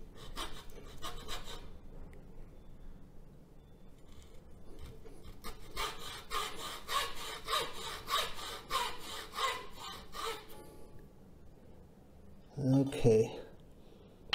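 Rhythmic rasping strokes of wood being sanded by hand, steady back-and-forth scraping close up, stopping briefly before a final burst.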